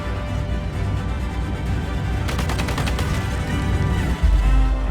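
A gunshot in the zombie survival game Project Zomboid: a quick burst of sharp cracks in the middle, with a heavier thump near the end, over a constant game-ambience rumble.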